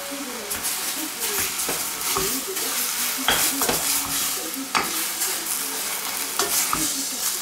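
Spinach cooks in a pan over a low flame, giving a steady soft sizzle broken by repeated stirring scrapes and light utensil clinks against the pan, with voices talking over it.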